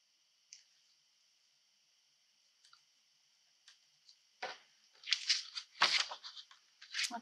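Clear tape being pulled off and pressed down onto a hand-stitched snowflake craft card, heard close and alone as a faint tone gives way to a burst of crackly tearing and rubbing sounds in the last few seconds.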